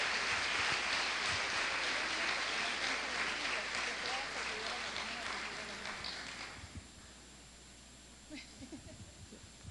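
A congregation at a women's church conference applauds, a dense sustained wash of clapping that fades after several seconds into murmuring and scattered sounds.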